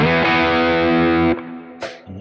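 A Schecter MV6 electric guitar on its bridge single-coil pickup rings out a sustained distorted chord, then cuts off into short, bright picked notes and a scratchy strum.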